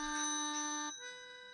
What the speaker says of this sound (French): la sonnette de la porte retentit de nouveau